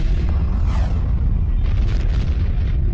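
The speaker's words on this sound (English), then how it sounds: "a massive star explodes, sending a lethal burst of energy rocketing toward our planet" A massive star exploding in the Milky Way, rendered as a gamma-ray burst, comes through as a loud, sustained deep rumbling boom that rolls on without a break, with crackling upper noise swelling and fading. No voices are heard.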